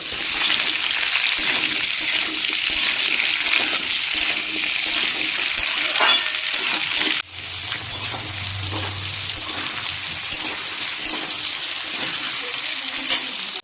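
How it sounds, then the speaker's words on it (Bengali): Beetroot and carrot fry in a pan over high flame in a home kitchen, a continuous close sizzle that briefly drops in level midway, with a low hum and light stirring beneath. "এখানে কিন্তু আমাদের বিট গাজর দিয়ে পাঁচ মিনিট মতন ভাজা হয়ে গেছে"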